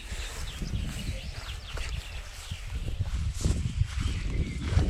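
A Percheron stallion's hooves thud and clop unevenly on the ground nearby as it shifts and steps, with faint rustling and outdoor background noise.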